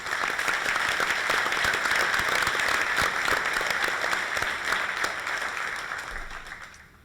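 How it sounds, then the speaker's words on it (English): An audience at a 2015 governor's race forum on coastal issues applauds the candidates, a dense steady round of clapping that holds strong for several seconds before tapering away. "So please join me in a round of applause welcoming all of our candidates."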